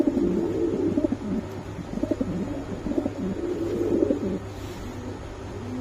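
Fancy pigeons, including Spanish pouters, Budapest, beauty homers and racers, cooing steadily and close together at a pigeon sale, with low throaty coos overlapping in a continuous murmur and no talking.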